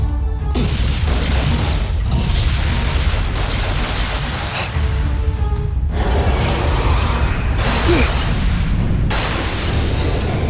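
Voltes V's bazooka weapon firing in the Voltes V Legacy series, heard as loud, dense mechanical blasts with whirring and ratcheting textures, sustained and booming with a few sharp surges.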